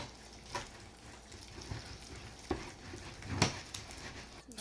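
Corn dog batter of cornmeal and milk being stirred by hand in a bowl, quiet scraping and wet sloshing with a few sharper knocks of the utensil, faint and close.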